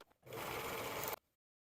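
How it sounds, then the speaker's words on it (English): An overlocker serges the shoulder and side seams of a bodice in one steady, fast whirring run of about a second, close and even before stopping abruptly. "At this point, you want to overlock the shoulders and sides of the front and back bodice pieces."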